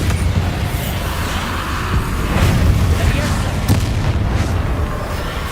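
The Bombarda spell detonates in Hogwarts Legacy as a loud, rumbling boom that spreads into a sustained, noisy blast for several seconds.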